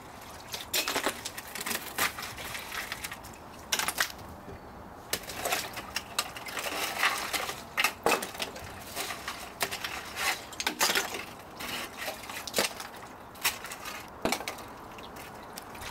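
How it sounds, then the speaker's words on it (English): Ice being broken up in a bucket of frozen water outdoors, a run of sharp cracks, clinks and crunching impacts scattered irregularly through the clip, close and fairly loud. "So I'm just going to break the ice because that's not fun."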